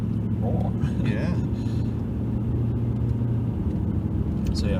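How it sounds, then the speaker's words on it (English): A Lincoln MkVIII luxury car drives with a steady, loud low engine and road rumble that never rises into a rev, while people talk over it. "You've got a luxury car here that is usually very quiet, but if you push it, they can roar."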